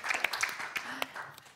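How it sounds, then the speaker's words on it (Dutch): A small audience claps for panel speakers after a film screening, a short burst of scattered, close hand claps that thins out over about a second and a half. "Ja, een mooi applaus."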